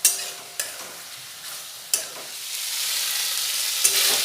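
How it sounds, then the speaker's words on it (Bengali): Chicken sizzles in a pan with ginger garlic paste while a spoon scrapes and stirs in a few sharp strokes, the frying hiss steady and close and rising toward the end. "আদা রসুন বাটা দিয়ে ভালো করে কষিয়ে নেব।"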